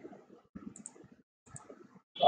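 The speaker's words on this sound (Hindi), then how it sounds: "Let me paste and hit enter." Soft, scattered keystrokes on a computer keyboard lead up to a firmer, louder press of the Enter key right at the end, close and otherwise quiet.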